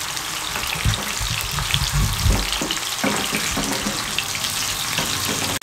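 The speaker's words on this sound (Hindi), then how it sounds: "इनको हल्का हल्का फ्राई करना है।" Potatoes fry lightly in a pan with oil, a steady close sizzle and crackle running throughout, with some soft clatter from turning the pieces and no talk.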